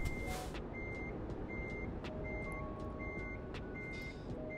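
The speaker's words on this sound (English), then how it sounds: "so now I have more or less lined up my trailer and I'm just going to reverse back" A truck backing up with a trailer in a driving video game, its reversing alarm beeping in a steady, regular rhythm over a constant low engine rumble, with no voices.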